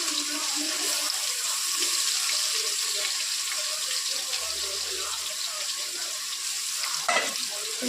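Green chillies, garlic, ginger and fennel sauté in a hot pan for chicken biryani, giving a steady close sizzling hiss with occasional soft clinks of stirring, and no talk over it.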